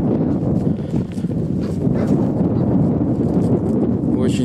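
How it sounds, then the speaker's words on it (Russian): Strong wind on a rural property in early May buffets the microphone, a dense, rumbling roar that stays loud and close throughout without a break. "очень сильный ветер"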